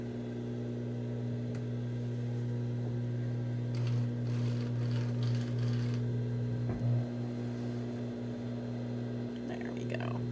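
A sewing machine stitches a dress lining around the armhole, giving a steady low mechanical hum that runs through the whole clip at moderate level, with a brief burst of faster motor whirring midway and faint handling noises.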